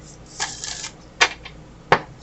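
Sacred Rebels Oracle cards being shuffled by hand, a few short crisp riffling bursts with quiet gaps between them, close and soft.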